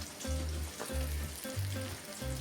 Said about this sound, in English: So oil's hot, just tip some in the middle and then actually just swirl it round.